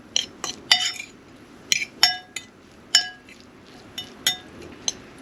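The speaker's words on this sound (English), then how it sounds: "Let's stir that up." A spoon stirs recipe ingredients in a bowl in an off-grid kitchen in Alaska, with sharp, bright clinks against the bowl recurring every half second or so, close and clear over a quiet background.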